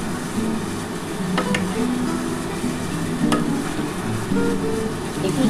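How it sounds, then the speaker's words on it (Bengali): Chili-spiced masala with a splash of water is stir-fried in a pan for a fish-head curry, giving a steady close sizzle with scattered scraping clicks from the spatula. "খুব ভালো করে এবার মশলাটা দিয়ে ভালো করে কষাতে হবে।"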